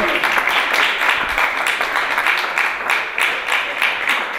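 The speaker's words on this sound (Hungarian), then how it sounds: "Kiemelt tapsot szeretnék kérni Csete Jákosnak." Sustained applause from a jazz concert crowd, dense clapping that carries steadily throughout at a fairly loud level.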